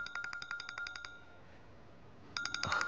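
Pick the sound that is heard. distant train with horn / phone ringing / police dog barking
phone ringing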